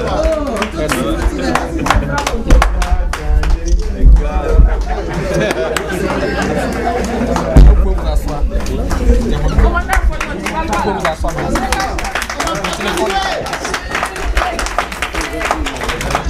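An audience at an Ivorian association gathering applauds a newly installed president, steady clapping mixed with loud crowd chatter and voices throughout, a busy, continuous wash of sound.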